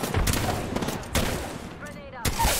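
Gunfire in the video game Apex Legends, rapid bursts of shots and sharp cracks close by, mixed with game effects and a brief quiet gap.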